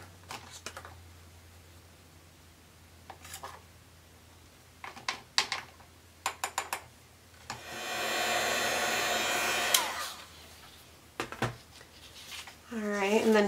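A heat tool drying white embossing powder on a card blows a steady loud whoosh for about two seconds midway, amid scattered handling clicks and taps, with a voice heard at the end.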